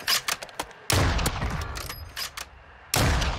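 Rapid bursts of gunfire during a Warzone 2 battle royale firefight, with several loud close volleys separated by short gaps and quieter shots between them.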